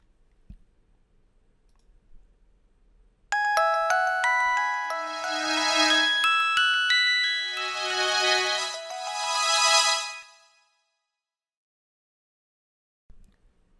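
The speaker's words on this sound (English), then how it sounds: "The next one sounds more gentle, and it's called "Rise and Shine."" "Rise and Shine", a gentle ringtone from a Samsung SPH-A920 phone: soft chiming electronic tones rising in rippling arpeggio waves for about seven seconds, then fading out into quiet, with no talking.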